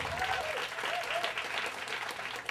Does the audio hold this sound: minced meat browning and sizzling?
no